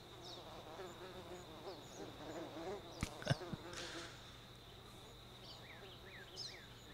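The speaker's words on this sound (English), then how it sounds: "So it's just like bees all over the place." Ambient bees buzz all around in an Unreal Engine 5 game soundscape demo, a steady close swarm hum with scattered bird chirps and a few sharp clicks partway through.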